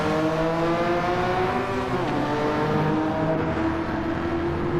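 Race cars in Gran Turismo 7 run a Porsche 993 Sunday Cup race, their engines holding a loud, continuous, high whine that dips briefly as the pitch shifts, then carries on.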